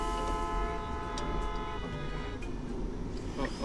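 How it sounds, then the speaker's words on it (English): Car horns honk on the road, with long sustained blaring tones layered together over traffic rumble and steady engine noise, close and loud throughout. "Why are they honking?"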